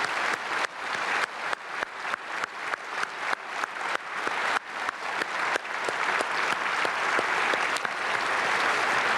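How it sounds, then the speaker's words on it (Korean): Standing congregation in a church at an early-morning prayer service giving sustained, loud applause, dense clapping that builds in rhythmic surges and stays full throughout. "자, 다 함께 서시면 박수하겠습니다"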